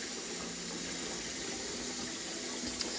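Tap water runs steadily into a crock pot in a home kitchen while dinner is being prepared, a continuous close hiss and splash with no talking.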